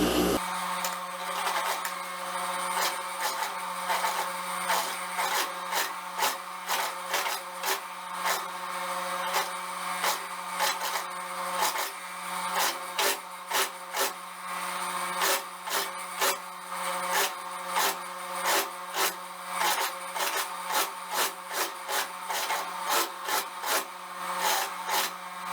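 A sewing machine stitches a seam along the edge of fabric for a pantacourt jumpsuit, a fast, steady mechanical rattle running continuously and close with brief pulsing variations, no talk over it.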